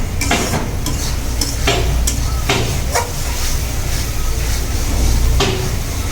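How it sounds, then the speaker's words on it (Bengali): Spice masala sizzling steadily in an oily pan, with a dense crackling hiss throughout and several sharp scrapes and clacks as a spoon stirs it, and no talking. "এই মশলাটাকে কিন্তু ভালোভাবে কষিয়ে নিতে হবে আর ভালোভাবে ভাজা ভাজাও করে নিতে হবে"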